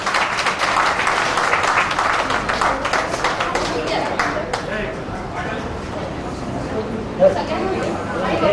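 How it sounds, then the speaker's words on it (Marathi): An audience at a lamp-lighting ceremony claps as a wash of applause. It is fullest at first and thins over several seconds beneath steady talk and crowd chatter. "जोरदार टाळ्या वाजवाय"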